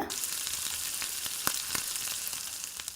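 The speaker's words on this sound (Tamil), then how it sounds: "இஞ்சி பூண்டு பேஸ்ட்டு சேர்த்துடலாம் சேர்த்துட்டு இதையும் ஒருத்தர நல்லா கலந்து விட்டுருங்க" Ginger garlic paste fries in hot oil for kothu parotta, a steady close sizzle broken by a few soft scraping clicks of stirring. No one speaks.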